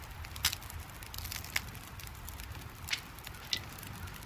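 Campfire in the survival game The Long Dark crackles softly, with a few sharp pops standing out over a low, steady background rumble; no one speaks.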